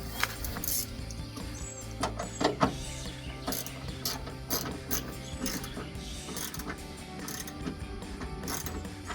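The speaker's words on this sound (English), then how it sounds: "grab your 10mm socket and go ahead and snug those up" A 10mm socket ratchet snugging nuts on a rear spoiler for a 2015-2023 Mustang, clicking in quick uneven bursts of pawl ticks with brief pauses between, close up and with no talking.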